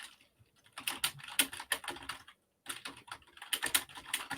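Fingers type a discussion question into Padlet on a computer keyboard, giving quick bursts of crisp key clicks that stop briefly midway and then resume at the same brisk pace.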